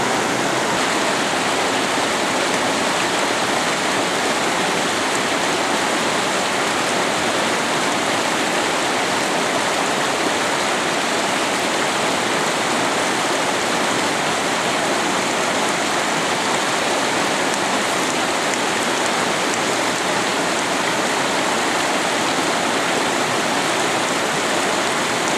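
The Chestatee River flows with a dense, constant rushing hiss, loud and steady throughout, like a stream or small rapids nearby.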